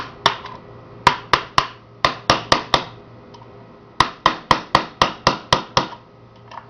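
Hammer blows on a cold chisel cutting out a tamperproof screw: sharp metallic strikes in quick clusters of three to five, about seventeen hits in total with short pauses between groups, close and crisp.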